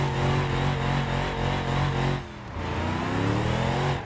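A car in the BeamNG Drive video game revs hard in first gear, a loud, close engine drone that dips briefly near the middle and then climbs again, with no talk over it.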